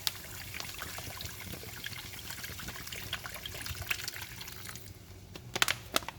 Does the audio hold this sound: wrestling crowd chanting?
no